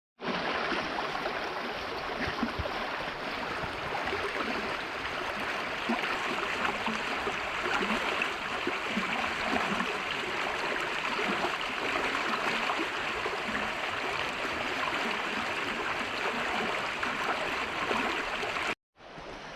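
A winter river in Lancashire rushes steadily over its bed, a close, loud and unbroken wash of flowing water with no voices, cutting off abruptly just before the end.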